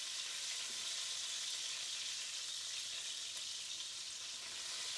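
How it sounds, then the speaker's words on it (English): Bacon fries in a pan, a steady close hiss and crackle of sizzling fat that holds even and unbroken throughout, with no voices. "I got my bacon going"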